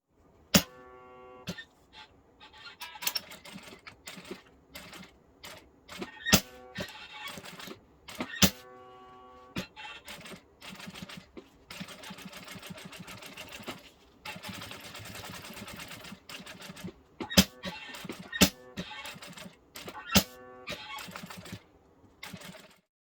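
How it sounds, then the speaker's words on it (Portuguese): A sewing machine topstitches an insulated bag with nylon thread, running in repeated bursts of rapid mechanical stitching separated by short pauses and sharp clicks, moderately close and with no voices. "Pelo lado interno, eu faço uma costura de segurança em toda a volta."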